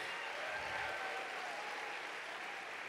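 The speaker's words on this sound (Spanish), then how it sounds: "démosles un aplauso a esos papás que muchos están sentados aquí" A church congregation gives the fathers in the pews a round of applause, producing steady, fairly soft clapping that fills the room evenly throughout.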